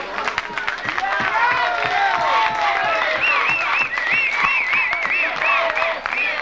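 An outdoor festival crowd at a 1999 São Martinho celebration in Gandra applauds a band with rhythmic claps, while excited voices shout and cheer close by throughout.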